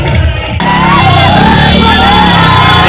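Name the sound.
large crowd shouting at a Prashant Kishor rally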